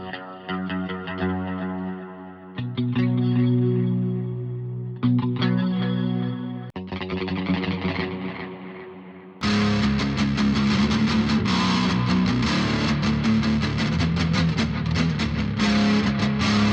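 Electric guitar through a BOSS GX-100 preset with a mid-gain amp, parametric EQ and echo: a few ringing chords first, then a dense, heavily distorted high-gain riff chugs loudly and continuously to the end.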